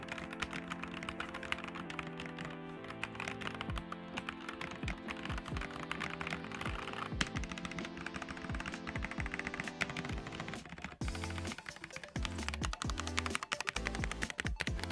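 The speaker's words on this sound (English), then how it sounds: "demonstrate a quick typing test on what these red switches actually sound like" Continuous rapid clacking of keys on a mechanical keyboard with red switches, soft and muffled, with steady typing rhythm throughout and no voices.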